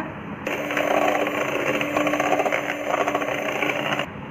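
Electric mixer beating chocolate cake batter made with flavourless oil and vanilla essence in a saucepan: a steady, loud motor whir with a slight rattle that starts suddenly and holds for about three and a half seconds, then cuts off.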